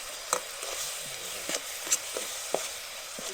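Ingredients stir-fried in a pan over a soft sizzle, with a spatula scraping and tapping the pan in irregular clicks about every half second, close and moderately quiet, with no talking.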